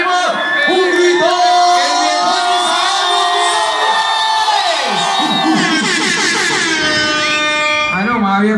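A dense concert crowd at a show shouts, whoops and cheers loudly and continuously, with horn blasts and high voices swelling through the roar.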